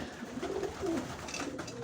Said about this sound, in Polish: No, wszystkie loty porobiły te gołębie.